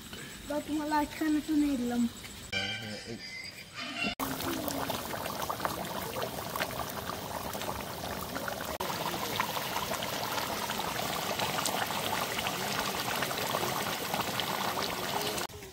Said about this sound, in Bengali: এবার আমরা ঝোলের জন্য জল দিয়ে দিচ্ছি